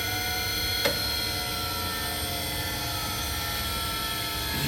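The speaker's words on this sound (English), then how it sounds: "Start your main workhead." A Cincinnati Monoset tool and cutter grinder's workhead spindle runs in good condition with a steady, smooth whir and high whine, close and constant, with one small click early on.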